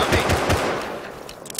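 Automatic gunfire in the video game Rust: a rapid burst of several loud shots up front, then the reports trail off into a fading echo within about a second.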